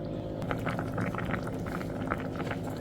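A pot of jackfruit boils on the stove, giving a steady low bubbling with small pops and light clinks scattered over a constant background hum.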